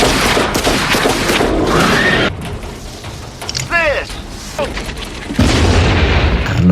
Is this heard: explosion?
yes